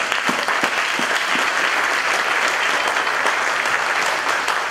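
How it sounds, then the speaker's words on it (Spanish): A church congregation claps together in steady, sustained applause that fills the room, even and loud throughout with no voices rising above it. "Dale un aplauso al Señor."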